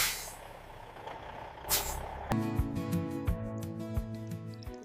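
A truck's air brake is set with a sharp hiss of released air, then the engine idles in a rhythmic, tonal rumble with repeated clicks and knocks, close and moderately loud.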